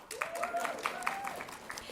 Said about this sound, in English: Would you give my hostess Susie a round of applause?